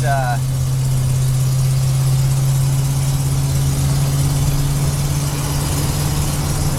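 Steady low engine drone from inside a car cruising slowly and easily, an even hum that holds unchanged throughout, with a brief voice fragment at the very start.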